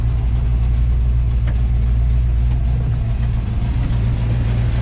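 A 1971 Dodge Challenger R/T V8 idling at about 1,000 RPM, with a loud, steady, deep rumble heard up close and continuing throughout, with no talking.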